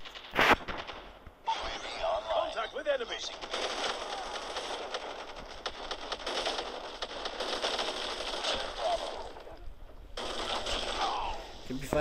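Rapid automatic gunfire in Call of Duty, fired from the hip with a chain-reaction weapon, rattles continuously and loudly for several seconds, with a brief lull near the middle.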